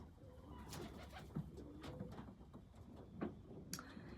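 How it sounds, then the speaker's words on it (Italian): Pigeons cooing near their nest where an egg has been laid, soft repeated throaty coos with faint ticks and wing sounds, quiet and moderately close, no talking. "stavo guardando i piccioni che ormai hanno fatto l'uovo qua, quindi entrano, escono, stanno mandando via gli amici"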